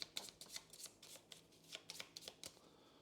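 Cards for the board game Aeon Trespass Odyssey being shuffled at close range, a quick run of crisp riffling bursts that repeat in an uneven rhythm across a few seconds with no talking.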